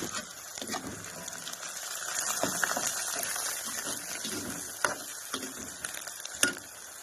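Steady, close sizzling and crackling of a frying pan as fresh coriander is tossed in for a Marathi home-cooked dal, with a few sharper pops and stirring clicks, no talking.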